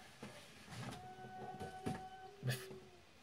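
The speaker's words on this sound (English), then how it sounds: "the light's making some noise" A faint, steady electrical hum with thin sustained tones, broken by a few soft clicks and bumps in a quiet room.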